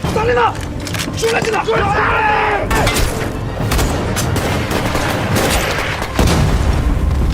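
Crumbling wall collapse with loud booms and bursts of gunfire in a war film battle scene, dense and continuous crashing throughout, with voices and music mixed underneath.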